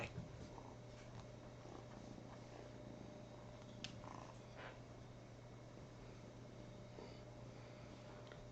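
A contented cat purrs in a person's arms, a faint, steady low rumble that continues unbroken throughout.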